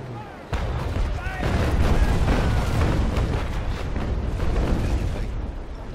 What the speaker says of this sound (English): I've just wasted my cannon shot on that side.